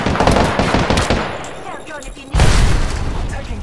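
Gunfire in an Apex Legends match comes as rapid automatic bursts, loud and dense, with a brief lull. A heavier volley follows near the end.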